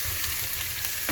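Marinated raw banana mix sautéing with curry leaves in a bronze pot, a short, steady close sizzle with soft stirring and no speech.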